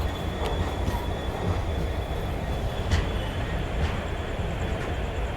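The Kanchanjungha Express rumbles along at night in a constant, dense roar of wheels and carriage noise heard from on board, with faint rhythmic clicks and a thin high squeal over the steady din.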